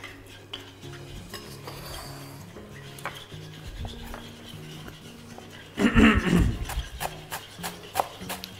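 A spoon stirs a mixture in a pot until smooth, giving repeated scraping and clinking against the pan, with a louder burst of rapid stirring near the end and faint background tones.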